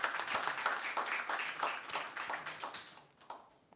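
Audience applause at a youth adaptation challenge awards ceremony, a burst of clapping that swells, pulses and then fades out over a few seconds, moderately loud with no talking.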